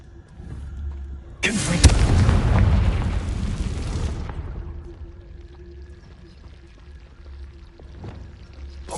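A single Bombarda spell blast in Hogwarts Legacy erupts with a loud, deep, roaring boom. The rumbling burst lasts about three seconds, then fades away, leaving a quiet, low ambient hum.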